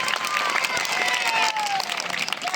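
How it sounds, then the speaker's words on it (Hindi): Steady, dense clapping from a gathered audience at a Bhagavat katha religious gathering in a village, holding an even level throughout the short stretch, with faint tonal sounds over it. "के लिए जोरदार तालियां बजाएंगे।"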